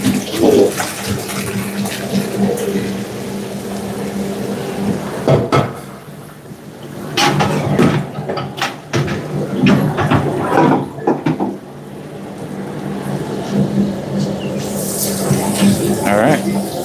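Cold tap water runs steadily over freshly drained pasta in a home kitchen sink, a continuous splashing rush with short pauses and clatter, loud and close.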